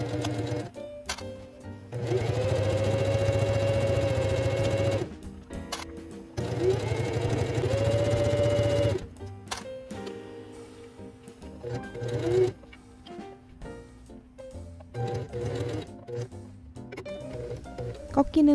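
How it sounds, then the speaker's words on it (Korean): A sewing machine stitches the collar of a one-collar shirt in two sustained, close runs, each a few seconds long, with quieter handling and fabric noises in the pauses between them. "미리 그어놓은 3cm 위부터 재봉을 시작해줍니다."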